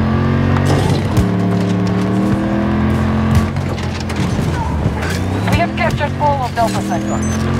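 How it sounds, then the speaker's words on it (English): Vehicle engine in the video game Battlefield 2042, a steady droning motor with shifting pitch and revving swells, loud and continuous throughout, with battle noise and a voice talking over it. "I see a vehicle!"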